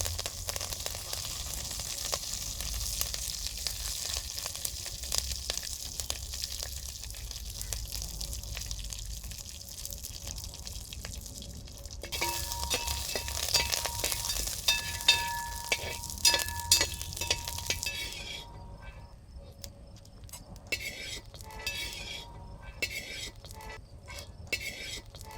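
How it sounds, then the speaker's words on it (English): Curry leaves fry in hot coconut oil in a cooking vessel outdoors, a continuous crackling sizzle with scattered pops and clinks of utensils. The sizzle thins out and turns patchier in the later part. "add coconut oil to use to fry the curry leaves"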